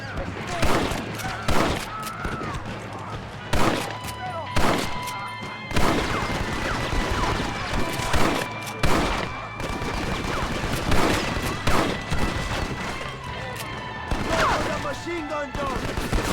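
Machine gun fire rattles through a Red Dead Redemption gunfight in repeated loud bursts of rapid shots with sharp cracks and booms between them, while voices shout underneath.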